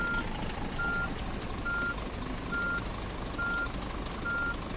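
Truck reversing beeps in the On The Road driving game, six evenly spaced electronic tones over a steady diesel engine rumble, clear and continuous with no talk.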